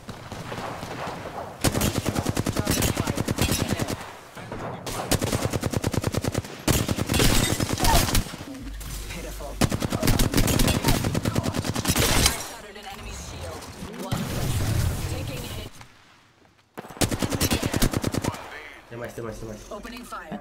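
Automatic weapon fire rattles in Apex Legends, long dense bursts repeating with short gaps between them, loud and close, with a voice speaking in between the bursts.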